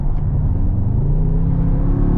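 A 2023 Mercedes-AMG GT E-Performance hybrid V8 accelerates hard from inside the cabin, a steady, loud, deep engine roar with a rising whir carrying through the whole stretch, no voices.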